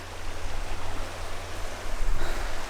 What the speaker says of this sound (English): on the edge of this creek, which is just the most beautiful creek.